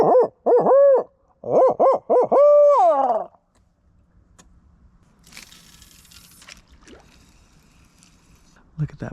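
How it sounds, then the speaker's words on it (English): A barred owl hoots a loud, rhythmic series of calls from nearby woods by the water during a fishing outing, then falls silent, leaving faint lapping water and soft handling noises. "Ooh, just heard a barred owl."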